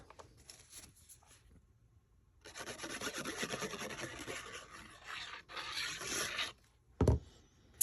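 A Melon Mambo paper piece is burnished down onto a handmade birthday card, a close, dry rubbing and scraping that runs in long strokes, pauses briefly, then ends with a couple of sharp taps.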